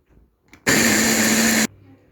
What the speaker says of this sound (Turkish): Şimdi ağzını kapatıp bunu güzelce bir çekelim.